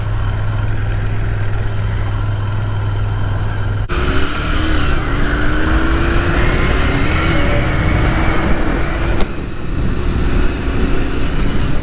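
A 2022 Royal Enfield Interceptor 650 parallel-twin rumbles steadily while being ridden, a close, continuous engine drone with wind rush and a rising note as the revs build, with no talk over it.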